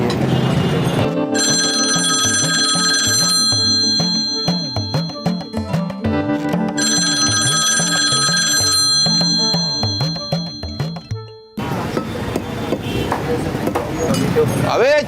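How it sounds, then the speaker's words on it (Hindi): A telephone rings over and over without being answered, with regular bursts of bright electronic trill separated by short pauses, loud and close. A voice and other rhythmic noise sit underneath, and the ringing stops near the end. "एक तो इधर फोन कोई नहीं उठा रहा"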